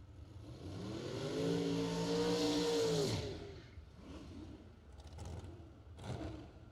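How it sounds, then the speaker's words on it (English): A dragster at a drag race roars past with a rising, then falling engine whine, loud for about three seconds before fading into distant rumble and a few sharp bursts. "Here comes your other dragster."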